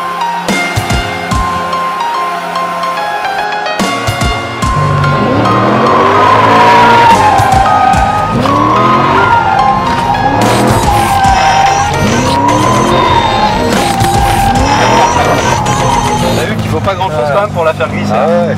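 A car with a big, high-torque engine drifts, its tires squealing in long wavering screeches over a loud engine roar, with people talking inside the car throughout.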